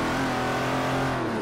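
Engine of a car in Forza Horizon 4 pulling hard under acceleration, a steady, loud, harmonically rich motor tone that stays constant through the short moment with no talking.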